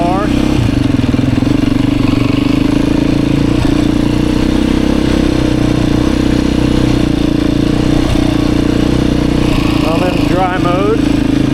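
A 2024 Beta 350RR dirt bike engine runs nearby in dry mode, holding a loud, steady drone with a few quick blips of revving near the end. Rider wind noise sits under it throughout.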